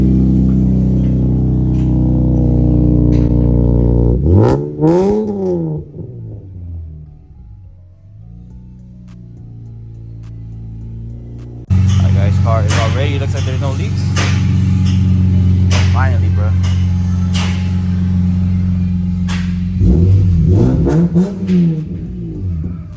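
Infiniti Q50 engine revving loudly after an exhaust header leak repair at a muffler shop, with repeated rising and falling revs near and a steady idle between them, with voices talking over parts.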